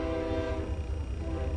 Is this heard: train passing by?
yes